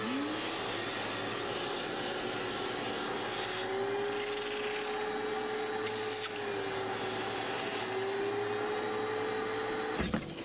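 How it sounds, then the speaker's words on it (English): Vacuum cleaner working over fabric car seat upholstery, a steady loud motor whine with a slowly wavering pitch, running continuously close by with a brief bump near the end, no talk. "Now, time to vacuum. I'm going to vacuum it up again."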